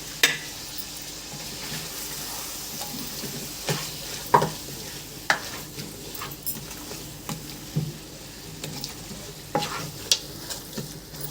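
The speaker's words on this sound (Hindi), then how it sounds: "और ज़ीरा ये डाल के थोड़ी सी भुनाई कर लूंगी।" Cumin and spices roast in a pan for shaljam gosht, a low steady sizzle broken by a series of spaced spoon taps and scrapes, close by and unaccompanied by speech.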